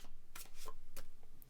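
Playing cards are shuffled during a pick-a-card tarot reading, giving a few quick riffling bursts with crisp snaps, close and fairly quiet, with no talking.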